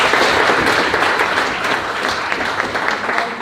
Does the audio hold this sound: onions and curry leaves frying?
no